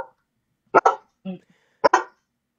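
A dog barks twice in short, loud bursts, each a quick double yap, with a softer growl-like sound between, heard up close and clear of other sounds.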